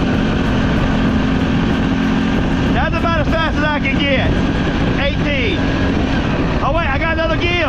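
Honda 300 6x6 ATV engine droning loud and steady during a top speed run, with heavy wind buffeting over it and a voice talking briefly partway through.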